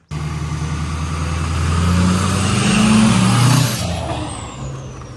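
A jet boat engine roars steadily on a first test run, swelling in pitch and volume midway before easing back, heard up close without any talk.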